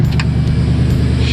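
1970s Ford Torino engine idling after a new carburetor and spark plugs, burning oil, with a low steady rumble close by and a couple of faint clicks.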